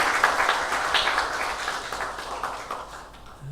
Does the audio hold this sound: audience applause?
yes